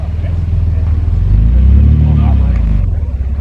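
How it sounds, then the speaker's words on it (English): A classic MGC Roadster with a straight-six engine drives past at a car show, its engine note swelling to a peak and then fading, under a steady crowd murmur and nearby talking. "there's a Roadster just driving past"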